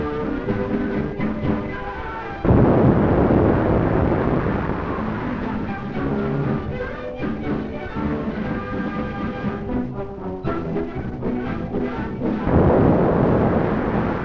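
Naval shell fire from Soviet warships of the Red Fleet in the Baltic in 1941, heard as loud, heavy booming blasts and rumbling explosions recurring over a continuous low roar, with a grainy old newsreel quality.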